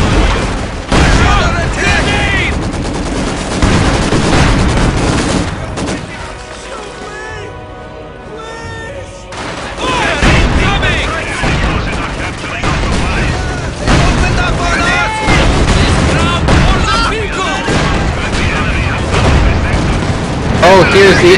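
Tank battle in Company of Heroes 2, with Panther tanks trading fire: loud, dense gunfire and booming explosions rolling continuously, briefly easing midway before surging again, with a voice talking over the battle.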